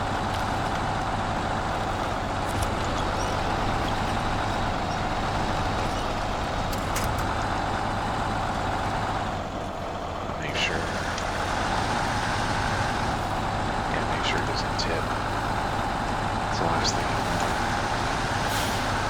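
A heavy Voron truck engine in SnowRunner drones steadily and loudly for the whole stretch, with a brief dip midway and no talk over it.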